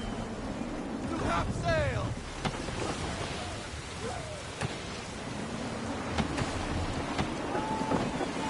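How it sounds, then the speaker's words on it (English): Steady gusty wind and sea noise around a sailing ship at sea in Assassin's Creed III, a constant rushing roar with faint creaks and a brief voice over it. "Wind looks to be shifting. Stay alert, Connor. Gusty winds can be difficult to manage."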